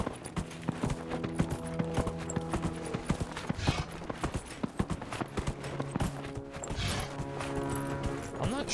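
Steady clip-clop of horse hooves at a brisk, galloping rhythm in the video game Dragon Age: Inquisition, continuous and fairly close, with a game soundtrack playing underneath.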